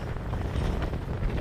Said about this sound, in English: it's really windy. I don't know if you can hear it, if this phone picks up the wind